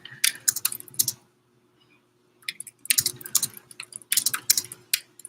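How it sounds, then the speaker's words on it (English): Keys clatter on a computer keyboard in two quick bursts of close, crisp typing, broken by a short pause, with no talking. "Just typing something."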